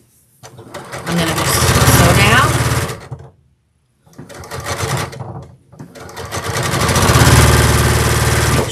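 A sewing machine stitches down pieces of a scrappy crazy quilt block in three close, loud, steady whirring runs separated by short pauses, with the motor speeding up and slowing at each start and stop.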